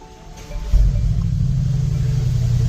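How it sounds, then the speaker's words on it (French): A car engine cranks and catches after an electrical fault is disconnected, a sudden low rumble that then settles into a steady close idle, with no voices. "je le débranche et la voiture démarre et fonctionne parfaitement"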